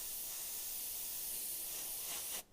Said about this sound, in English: this is my other Iwata, but this one is spraying by itself